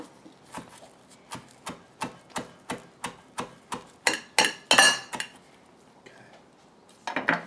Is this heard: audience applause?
no